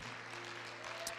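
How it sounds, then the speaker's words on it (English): Applause from a church congregation at an evening Spanish-language service, a steady wash of hand claps filling the space with a faint voice or tone held underneath. "Let's give the Lord a hand clap."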